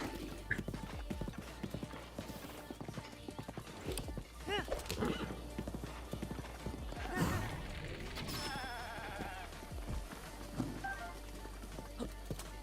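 Horse hooves clip-clopping across ground in the video game Zelda Breath of the Wild, a steady galloping patter with scattered clatter and thuds, fairly quiet under game music and ambience.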